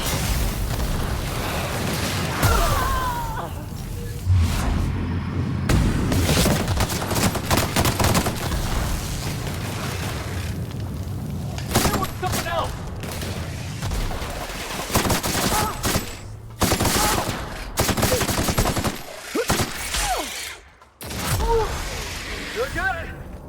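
Gunfire bursts in The Outer Worlds shooter game, rapid shots and booming impacts in dense volleys through most of the stretch, with a player talking over the combat.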